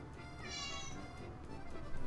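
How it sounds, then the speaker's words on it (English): A domestic cat meows in a kitchen beside a pot of boiling water, one drawn-out meow up close over steady background bubbling and hiss. "The cat agrees."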